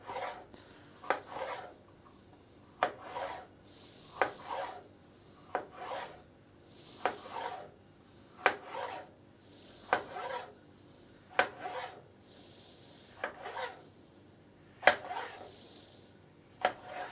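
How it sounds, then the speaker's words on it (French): A sharp, freshly honed knife cuts bell peppers into thin strips on a board, making about a dozen crisp, evenly spaced chops with brief scraping between strokes, close and clear with no talking. "Deuxième poivron, pareil, on va faire des émincés fins avec un couteau bien aiguisé au préalable"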